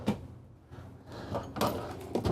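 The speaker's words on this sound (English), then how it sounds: "we've got 3 pull-out drawers with the nice soft close feature." Soft-close pull-out drawers in the kitchen of a 2024 Renegade Verona 40VBH motorhome slide and settle with muffled thuds and light rolling, a few quiet knocks heard close up.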